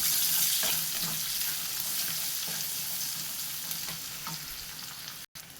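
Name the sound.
chicken sausage with curry leaves sautéing and stirred in pan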